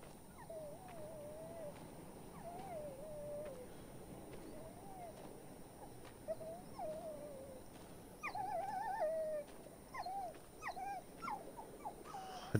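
Dog whimpering and yelping in the Maid of Sker horror video game, a series of thin, wavering whines recurring across the clip over a low rumbling ambience, growing louder and more insistent toward the end.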